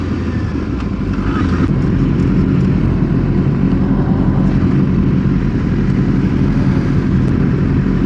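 A group ride of seven motorcycles, including Kawasaki ZX6Rs, moves through town. Engine noise roars loud and constant from the rider's position, thick with rushing wind.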